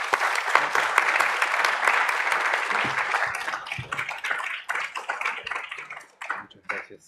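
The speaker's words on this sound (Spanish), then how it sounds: "Un aplauso, por favor, para todos." An audience applauds after a panel session on the global order, a brisk burst of clapping from many hands that thins out toward the end into scattered claps, with faint talk underneath.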